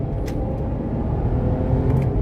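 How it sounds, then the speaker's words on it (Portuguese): A BMW 528i E39 rumbles while driving, heard from inside the car as a steady, moderate low drone with faint road noise. There is no talk. "esse carro ele tem um ronco muito lindo"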